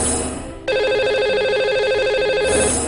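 Telephone ringing tone on an outgoing call to a radio show's lucky caller, a steady repeating electronic ring that starts after a brief pause and continues loud and clear to the end, with no talking over it.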